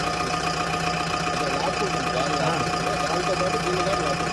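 A Tata mini van engine idles steadily after a carbon-cleaning treatment, with a constant close mechanical drone and slight knocking texture and no speech.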